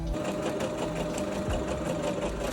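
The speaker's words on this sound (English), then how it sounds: "I'm going to sew to the seam that I've created in the bodice here" A sewing machine runs steadily and close, stitching a skirt panel onto the seam of a dress bodice, with a continuous even whirr throughout and no talk.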